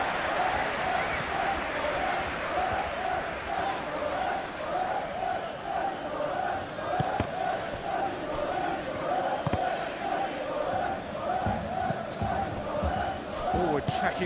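Crowd noise from a simulated Serie A football match between Juventus and Sassuolo, a steady roar of applause and cheering filling the stadium, with a commentator talking over it throughout.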